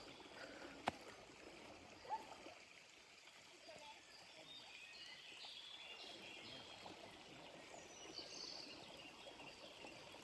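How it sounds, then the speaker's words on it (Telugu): A forest stream flows past a small bridge, heard as a faint, steady wash of running water with a few soft knocks. "ఒక పక్క వాటర్ సౌండ్, ఒక పక్క పిచ్చుకల సౌండ్."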